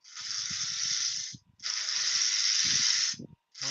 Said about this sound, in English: Oh yeah, my compressor just clicked in.